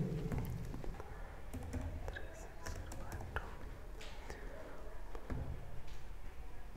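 Computer keyboard typing while card details are entered for online banking, a run of quick irregular clicks and taps, close and fairly clear, with soft whispery background noise between keystrokes.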